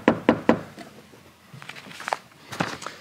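Three quick knocks ring out on a Mazda Miata's door panel, followed by fainter taps and handling sounds nearby.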